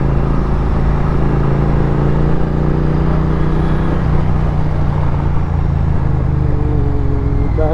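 A motorcycle engine drones loudly and steadily while riding on the road, a constant close hum with wind rush and no talking, and slight pitch shifts near the end.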